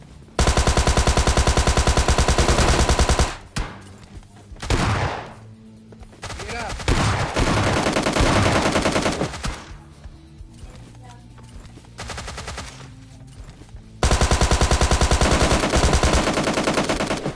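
Groza rifle firing in PUBG Lite, rapid automatic bursts rattling loudly and close, several long strings broken by short pauses and scattered shots, with a voice talking faintly between volleys.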